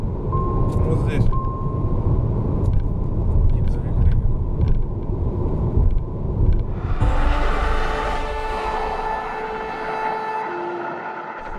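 A turbocharged Geely car accelerates hard, its engine and road rumble heard from inside the cabin, rising in pitch partway through with a whining tone as speed builds, while someone talks over it.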